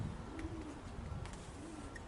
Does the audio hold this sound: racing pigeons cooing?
yes